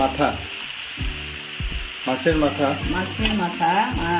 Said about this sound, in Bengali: তারপর এই ভেজে রাখা মাছগুলো দিয়ে দিচ্ছি